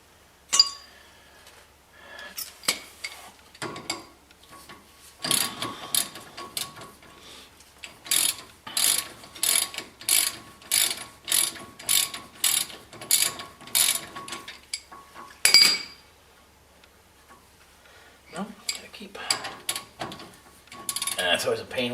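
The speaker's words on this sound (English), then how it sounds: "It's always a pain when it's too loose to work the ratchet, but too tight to actually undo it by hand." A hand ratchet clicks in rapid runs while working on the suspension of a Ford E-350 van, bursts of metallic ratcheting separated by pauses, with occasional clinks of tools, close and fairly loud.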